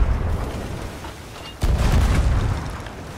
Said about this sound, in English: One of you shoot cannon line, one shoot low.